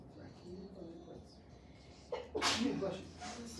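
A single sharp sneeze in an algebra classroom, fairly near and sudden, breaking through soft background talk and room noise.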